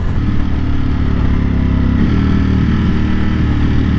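A Ducati Panigale V4 SP2 sports bike on the road with new tyres, its engine droning loud and close with a brief quick-shifter gear change breaking the steady tone midway.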